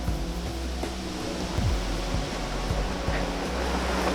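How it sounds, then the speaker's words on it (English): Wind gusts blow outdoors where a tarp covers work on a 1977 Corvette being primed, a loud, rushing, roaring buffeting across the microphone with uneven surges and no talk. "It is starting to get windy again."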